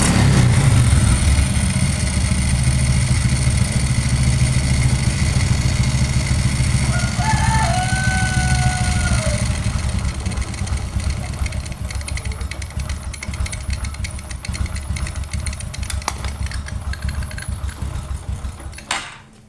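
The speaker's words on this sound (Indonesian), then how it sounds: "jadi setelah kita bersihkan, ini motor jadi bisa hidup lagi tanpa harus dicup, Pak" Honda Supra 125 motorcycle engine idles steadily after its carburetor was cleaned, a loud, close, continuous putter that holds evenly and then cuts off at the end, with a rooster crowing once in the background.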